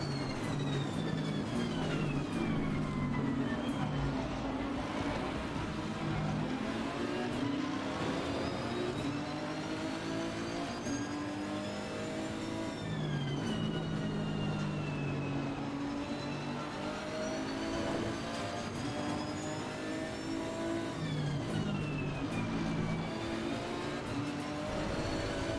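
Racing car engines in the Assetto Corsa Competizione game with a Ferrari close behind, a continuous loud engine drone whose pitch climbs and drops through gear changes, rising and falling steadily throughout.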